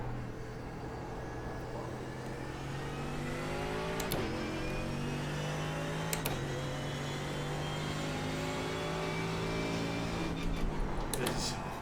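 Simulated race car engine from a sim racing game, rising and falling through gear changes with sharp downshift drops around braking, moderate level with a steady whining tone throughout.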